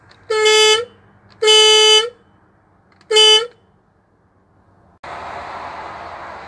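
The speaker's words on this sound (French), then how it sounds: "J'essaye aussi le klaxon, parce que la dernière fois, il marchait pas." Horn of a 2002 camper van being tested: three loud, steady honks, the first two longer and the third short, followed by a broad rushing noise with no voices.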